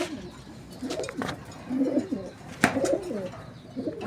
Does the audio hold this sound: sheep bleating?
no